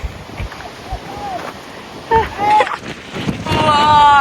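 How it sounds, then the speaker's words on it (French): Strong wind on a coastal trail in Brittany buffets the microphone with heavy rumbling gusts, while people speak and exclaim nearby. "Le vent, il nous déplace sur le sentier."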